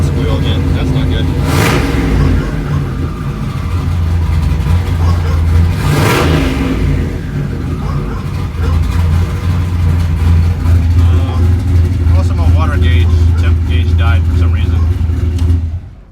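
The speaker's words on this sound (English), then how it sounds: "Oh, I got a belt squeal again" A car engine running a Holley Super Sniper setup revs hard twice, loud and close, with a belt squeal, then settles into a steady idle rumble; a voice speaks briefly partway through.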